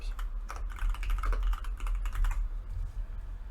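Rapid keystrokes clatter on a computer keyboard as someone types a search for keycaps, close up and steady at first, then thinning out into a few scattered taps over a low background hum.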